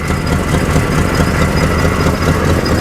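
A Chevrolet Monte Carlo SS V8 engine runs steadily after sitting unused for 20 years, giving a loud, continuous rumble with a rough, uneven edge throughout.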